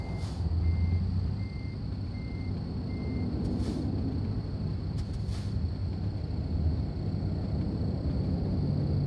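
A truck reverses in American Truck Simulator: four evenly spaced backup beeps over a steady low engine rumble, followed by a couple of short hissing bursts.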